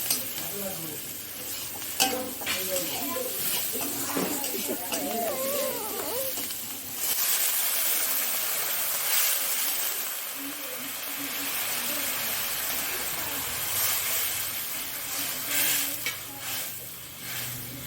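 Water is poured onto fried onions in a hot pan, setting off a loud, continuous sizzle and hiss that lasts for many seconds, with occasional stirring scrapes and a voice speaking faintly in the background early on.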